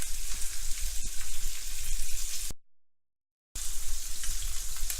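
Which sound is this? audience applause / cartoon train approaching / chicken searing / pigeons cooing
chicken searing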